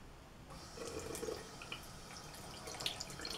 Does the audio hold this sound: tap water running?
yes